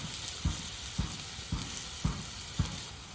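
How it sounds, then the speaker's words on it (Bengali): Spices sizzle in a pan for a vegetable curry with river fish, under a steady hiss broken by regular soft thuds of stirring about every half second. "মশলাটা ভালোভাবে কষিয়ে নিই"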